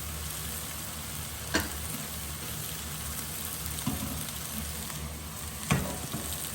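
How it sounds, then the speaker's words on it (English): Mackerel fillet seasoned with black pepper sizzles steadily in a hot pan, a constant close frying hiss with a few soft clicks and taps of the pan breaking through, no voices. "So I'm just going to pop down my mackerel there into this pan."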